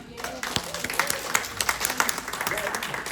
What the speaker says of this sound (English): Can we give a round of applause for Mia?